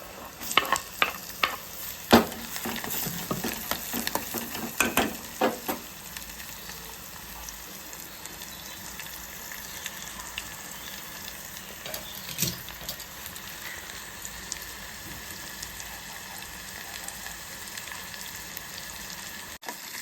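Chopped onion and tomato fry in a pan, with sharp scraping stirs during the first few seconds that then settle into a softer, continuous sizzle.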